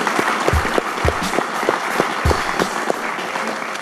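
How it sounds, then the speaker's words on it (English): An audience at the close of an interview event breaks into sustained applause, dense clapping with a few louder individual claps standing out near the front. "please give them a round of applause"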